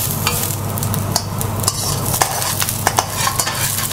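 Shallots stir-fried in a wok with sesame oil, ginger and garlic over low heat: a steady sizzle with repeated sharp scraping clinks of a utensil against the pan, close and fairly loud, no talking.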